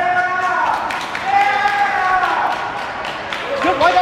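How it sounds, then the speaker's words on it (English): Audience applause and clapping mixed with cheering voices, a continuous crowd wash at a fairly even level with some shouting near the end. "Can I get a round of applause"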